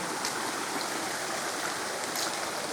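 Flowing water at Erawan waterfall, a dense steady rush with faint splashes, continuous and fairly loud, close to the falls, with no voices.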